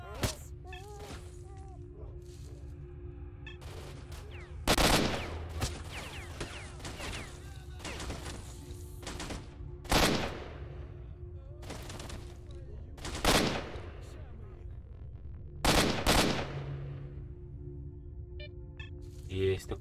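Gunfire in the video game S.T.A.L.K.E.R. Shadow of Chernobyl, with sharp, loud shots cracking out at spaced intervals over a low, busy game background, while someone talks in between.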